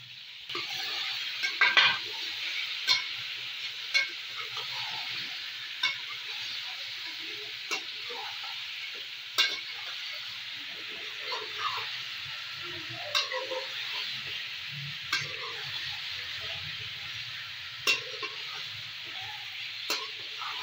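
Chicken frying in a green masala, a soft continuous sizzle broken by regular sharp clinks and scrapes of a spoon against the pan, steady and close for the whole stretch, with faint talk in places.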